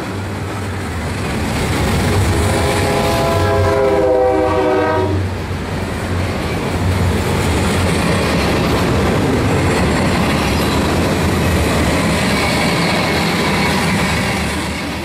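A long freight train rumbles past close by in north central Illinois, wheels clattering steadily, with a loud horn blast near the start, then continuous rolling noise.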